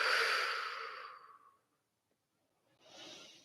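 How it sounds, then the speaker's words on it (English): One long, audible exhale that fades out, then a pause of silence before a softer breath starts near the end. "just take a deep breath and exhale"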